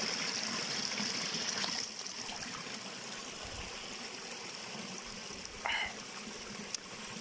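Natural spring water in the Sierra de Espadán of the Comunidad Valenciana trickling and flowing steadily close by, a continuous outdoor stream with a brief splash as someone bends to drink.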